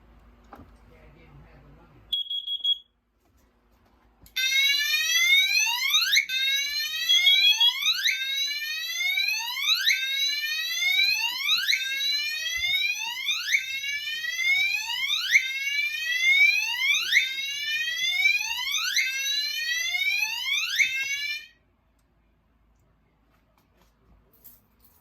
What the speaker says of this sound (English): So what I can do is I can activate the CO detector.